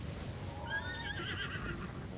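A horse in the video game Breath of the Wild gives a single drawn-out whinny that rises and wavers for about a second over steady game background noise.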